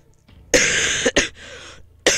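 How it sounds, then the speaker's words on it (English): A person coughs hard and close up in about three rough bursts: a long fit, then a short one, and another starting at the end, with no talk around them. "Sorry about the coughing"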